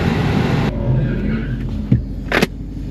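A wife's car driven by a 14-year-old at a drag strip roars at steady high revs, heard up close and loud, as if doing a burnout, with a couple of sharp knocks near the end.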